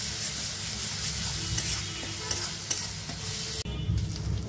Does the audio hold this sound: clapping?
no